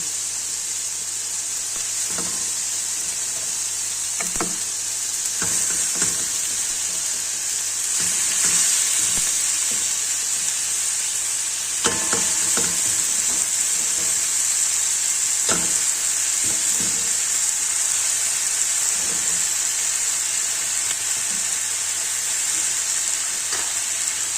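Chicken pieces frying in a pan with softened tomatoes give a steady loud sizzle and hiss, broken by scattered clinks and scrapes of a utensil, heard close with no talking.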